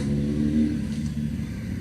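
A motorbike with an altered silencer revs hard and close, a loud raspy roar that holds steady with slight rises and dips.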